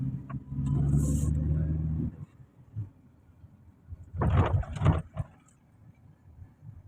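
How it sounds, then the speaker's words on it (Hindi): A car pulling into a parking spot near the airport in Jeddah, Saudi Arabia, with a steady engine rumble for the first two seconds, then a louder burst of engine or road noise midway before it settles quietly. "अभी गाड़ी को इधर ही पार्क करेंगे नज़दीक।"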